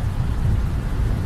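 Steady heavy rain falling during a trip to Thailand, a dense continuous wash of noise with low rumbling underneath, loud and close throughout with no voices.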